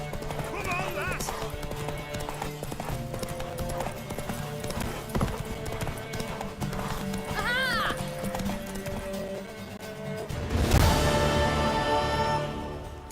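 A horse gallops in a race in The Witcher video game, with rapid rhythmic clip-clop hoofbeats and a neigh, heard under game music and character voices, with a louder burst near the end.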